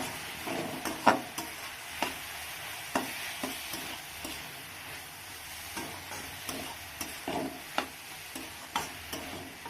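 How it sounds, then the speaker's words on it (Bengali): Grated hog plum stirred through panch phoron and a little mustard in a pan, a steady low sizzle broken by repeated scraping strokes of a spoon at an even rhythm, close and clear with no talking. "এবার আমি গ্রেট করে রাখা আমড়াটাকে দিয়ে দিলাম আমড়াটাকে দিয়ে ভালো করে নেড়ে চেড়ে নেবো"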